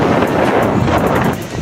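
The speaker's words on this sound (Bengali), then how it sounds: "দেখলে বুঝবে হাওয়া কি পরিমাণ দিচ্ছে, জামা কাপড় সব উড়ে যাচ্ছে।" Strong wind blowing across the sea beach at Puri at dawn, buffeting the microphone in a loud, continuous rushing roar with possible surf underneath and no speech.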